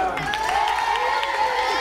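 A circus tent audience applauds and cheers a crew member, a steady wash of clapping and crowd noise with voices mixed in throughout.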